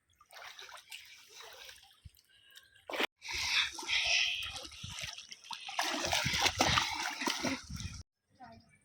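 Water splashing in a swimming pool as a child plays, busy bursts of splashing and dripping at close range, broken by brief pauses, with voices talking over it.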